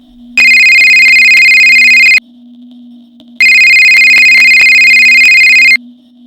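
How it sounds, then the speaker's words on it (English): A phone rings in two long electronic bursts separated by a short pause, loud and close, over a faint steady hum. "Suddenly your phone goes off."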